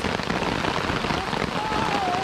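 Steady rain falls throughout on an outing during a family fishing trip, an even continuous hiss of drops close by with no gaps and no talking over it.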